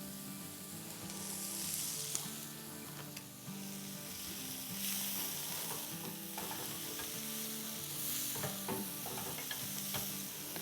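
Potatoes and softened onions sizzle and crackle steadily in a hot pan, with occasional scraping of a utensil stirring through them.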